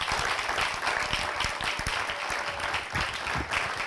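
A small audience claps and cheers steadily as a woman named Christelle makes her entrance at a French-language comedy show, with dense, continuous applause throughout and sharp individual claps standing out close by.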